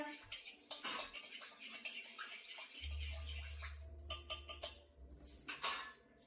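Metal utensil clinks and scrapes against a small dish while drops of four essential oils are stirred together, a run of quick irregular taps and rattles, close and fairly quiet, with a low hum in the middle.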